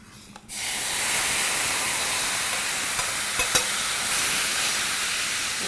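Aubergines dropped into a hot pan, a sudden loud hiss that jumps in and settles into steady sizzling, with a couple of faint utensil taps.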